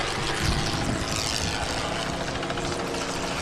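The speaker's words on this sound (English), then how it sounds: "we've got the copter up there as well." A helicopter flies over a race track during a racing event, its steady rotor and engine roar filling the air continuously and loudly, with no voices.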